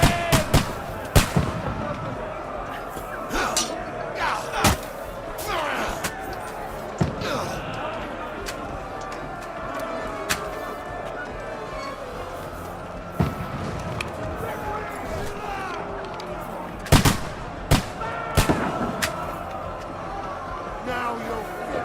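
Sharp, loud shots ring out during a medieval battle in the game Kingdom Come: Deliverance 2. The scattered bangs are irregular, mixed with other combat noise, and voices shout over them.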